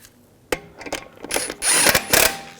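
Ratchet snugging lug nuts onto a 2007-2013 BMW 328i front wheel during a brake hose job, a sharp click followed by bursts of quick mechanical ratcheting, close and fairly loud.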